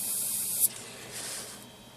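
An airbrush sprays thinned Vallejo Model Color paint as a sharp, steady high hiss that cuts off abruptly, leaving a quieter airy background afterward.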